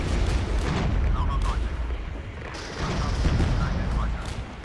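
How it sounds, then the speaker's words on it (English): A napalm artillery strike in the video game Regiments rumbles as a continuous series of heavy, booming blasts, loud throughout, with a voice talking over the barrage. "Artillery strike those. Napalm's going to be huge here."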